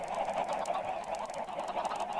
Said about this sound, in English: you'll see it just keeps spawning more and more chickens